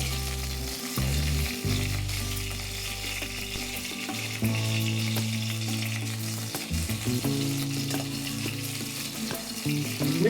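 Eggplant pieces from a terrace garden frying in hot oil for a spicy Maharashtrian-style home curry, a steady close sizzle with stirring clatter throughout and no talking.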